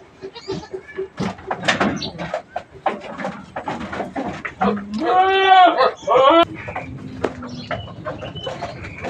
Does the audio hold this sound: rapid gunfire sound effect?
no